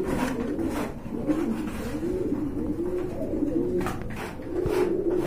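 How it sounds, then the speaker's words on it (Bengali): Pigeons at a bird market coo continuously in low, throaty rolling calls, several birds overlapping close by, with no speech. "কোয়ালিটি ফুল কবুতর"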